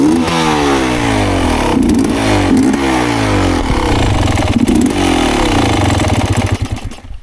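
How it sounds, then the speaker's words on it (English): Enduro dirt bike with a carburetor problem during an extreme enduro race in Brinje, Croatia, its engine sputtering and revving unevenly close by, then fading out as it dies near the end. "I don't know why my bike is dying."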